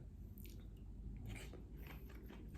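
Someone eating 7-Eleven rice with cheese corn up close, a run of soft wet bites and chewing crunches repeating steadily, quiet and close with no talk.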